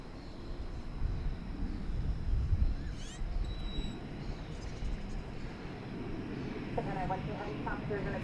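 A fixed-wing aircraft at DFW Airport on a Sunday morning makes a low, distant engine rumble that stays steady throughout. Someone talks over it for much of the time.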